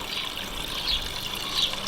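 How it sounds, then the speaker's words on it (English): A backyard garden water feature trickles steadily, a soft continuous splash and hiss of running water close by, with no voices. "The one water feature Mary Pat's allowing me to have in the backyard."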